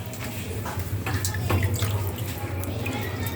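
Tap water runs steadily into a sink as chicken is washed for a barbecue, a continuous close splashing rush with a low hum beneath and brief clatters.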